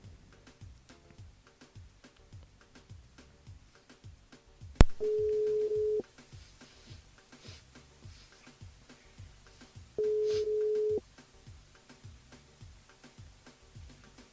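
A telephone line rings out on a radio show call to a listener, two long steady tones separated by a pause, over a faint repeating ticking backing beat.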